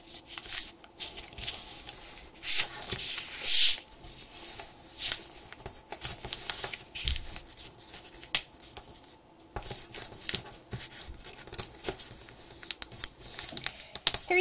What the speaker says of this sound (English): So, you're going to fold in half, or should I say make a 64 by 64 grid.